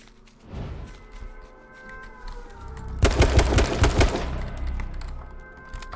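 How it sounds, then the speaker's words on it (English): Gunfire in the video game H1Z1 during a long-range duos fight: a dense, loud volley of rapid shots bursts out midway, with scattered shots before it and a ringing tail after. "These guys are literally just firing off shots."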